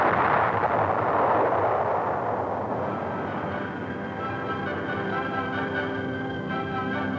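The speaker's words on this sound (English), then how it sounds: "People from every station in life who now recognize the startling sonic boom as, indeed, the sound of freedom." Convair B-58 Hustler jet during the 1962 Bendix Trophy Race, a deep continuous roar and rumble swelling early then settling into a sustained drone with tonal whine, loud and close, no voices.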